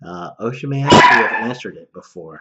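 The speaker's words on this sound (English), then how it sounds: "my little Yorkie poo barks at anything." A small Yorkie-poo dog yips and barks sharply in a home office, several quick high barks cutting across someone talking close to the microphone.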